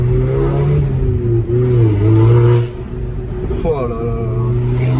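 An Audi TTS engine revs hard under acceleration with a loud, rising drone that dips and climbs again as it pulls through the gears, heard from inside the car while a voice exclaims over it.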